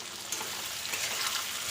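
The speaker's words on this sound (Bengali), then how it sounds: "পেঁয়াজটা ভাজা ভাজা হয়ে এসছে, আর এখন দিচ্ছি আলু।" Potatoes go into a pan where onions are already frying, giving a steady, close sizzling hiss that holds evenly for a couple of seconds with no voices.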